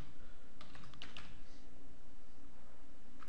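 A computer keyboard clicks with a short burst of close keystrokes while a username is typed, over a steady background hum, with no talking.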